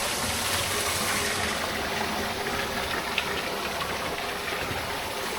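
Water gushes steadily from a non-potable fountain beside a mountain trail near Lake Garda, a loud, continuous rushing splash heard up close.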